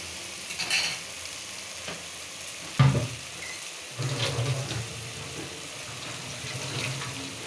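Hilsa fish pieces going into a pan of well-cooked spice paste: a sharp burst of sizzle, then a steady louder fry with occasional scraping stirs, close by and without talk.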